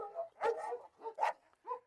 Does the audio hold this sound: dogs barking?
yes